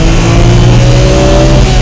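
A Nissan GT-R, a four-wheel-drive car built on a front-engine rear-drive layout, accelerates hard in second gear on a track, its engine roaring loud and steady from start to finish with a rising tone.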